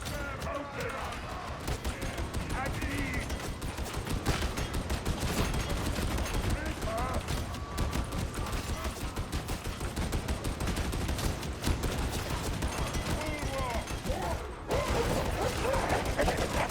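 Dense, continuous gunfire from many enemy shooters in the Darktide video game, firing at an Ogren; sustained loud volleys and rattling bursts fill the scene, with someone talking over the din.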